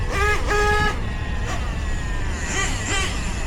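A Hobao GTX4 nitro RC pan car on foam tires drifts across ten-year-old asphalt, its small engine whining steadily with rising and falling pitch sweeps as it passes, loud and continuous throughout.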